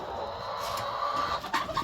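Roosters cluck softly in short, scattered calls against a faint, steady background hum.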